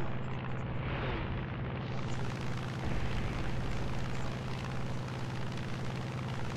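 Roar of an Avenger aircraft engine in War Thunder, a dense continuous drone that stays loud and steady throughout.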